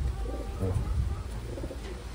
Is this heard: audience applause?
no